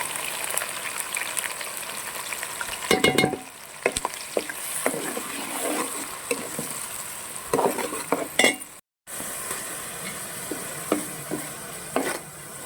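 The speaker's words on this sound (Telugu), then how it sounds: "అల్లం వెల్లుల్లిపాయ పేస్ట్ వేసుకొని బాగా ఫ్రై చేసుకోవాలి" Onion paste fries with ginger-garlic paste in a pan for a fish curry, a steady sizzle broken by several loud spoon scrapes and clinks against the pan.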